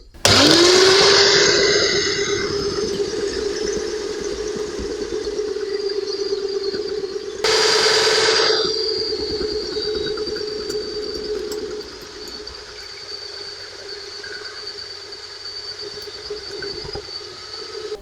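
A Philips electric vegetable cutter whirs up to a loud motor whine and runs steadily while it shreds cabbage and Brussels sprouts, with a brief grinding burst partway through. The motor then drops to a lower hum for several seconds.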